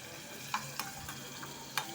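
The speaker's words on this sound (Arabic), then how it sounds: "في الكسرولة دي، وبحط معلقة زيت، وبعدين هشوح التوم ده، حمره كده" Garlic in a spoonful of oil sautés in a casserole pan with a quiet, soft sizzle broken by a few sharp pops and ticks.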